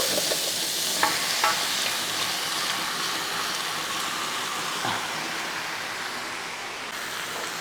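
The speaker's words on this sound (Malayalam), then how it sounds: "ചിക്കൻ ഇട്ടതിന് ശേഷം നമുക്ക് ഒന്ന് ഇളക്കി കൊടുക്കാം" Chicken sizzles steadily in hot masala gravy in a pan, with occasional scraping clicks from stirring, a continuous close frying hiss with no talk.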